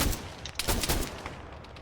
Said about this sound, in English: Fires a few shots.